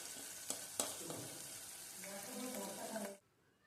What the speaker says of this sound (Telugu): ఈ విధంగా నిదానంగా ఫ్రై చేసుకోవాలి. ఆయిల్ అనేది సపరేట్ అయ్యేంత వరకు ఫ్రై చేసుకోండి.